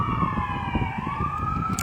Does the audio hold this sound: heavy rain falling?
no